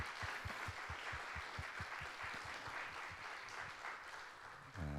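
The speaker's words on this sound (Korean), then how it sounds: "오늘 귀한 미래 비전을 보게 하신 하나님께 우리 다시 한번 영광의 박수 올려드립시다." A church congregation claps in praise during a worship service, a faint, steady patter of many hands heard at a distance, with a rhythmic low thumping running beneath it.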